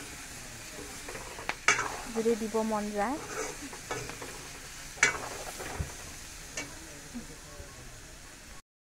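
Fish curry frying and being stirred in a pan, a steady sizzle with scraping stir strokes and clinks of a utensil, close by, while a person speaks briefly over it.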